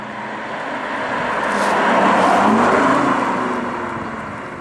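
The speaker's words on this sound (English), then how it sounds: "The first thing you hear is all this engine noise." Synthetic engine sound of a BMW i8 in sport mode, played through the cabin speakers while driving, a steady droning hum that swells in the middle and eases off again.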